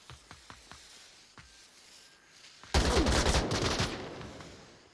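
A burst of rifle fire in the VR shooter Onward during a competitive match, a loud rapid volley after a few faint distant shots and footsteps, with bullets hitting near a window.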